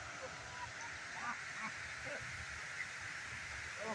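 Ducks honk and quack in scattered short calls beside a backyard pool, moderately close over a steady background hiss, with faint voices mixed in.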